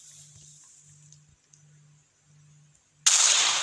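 After a few seconds of near quiet with a low hum, a small firecracker bursts suddenly and loudly up close, breaking into a bright crackling hiss at the very end.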